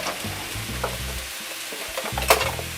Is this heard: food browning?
yes